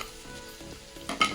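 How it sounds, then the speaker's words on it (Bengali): Onions fry in ghee with cinnamon, cardamom, bay leaf and raisins for a chicken biryani, a soft close sizzle broken by stirring scrapes that grow louder near the end, with no voices. "পেঁয়াজটা ভাজা হয়ে গেল"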